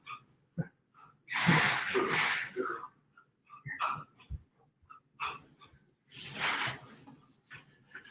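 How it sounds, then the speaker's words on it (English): A new puppy gives a few sharp, excited barks and yips among snuffling and movement, fairly close in an indoor room, with brief quiet gaps between bursts. "I have a new puppy and she is going a little crazy. If she barks again"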